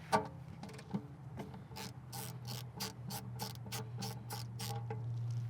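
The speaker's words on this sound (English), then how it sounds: "we can go ahead and remove our overflow or check plug here. Again, 5mm hex." A 5mm hex tool backs out the transmission check plug on a Subaru BRZ, giving a run of quick, regular ratchet clicks, close and moderately loud over a low steady hum, with no talk.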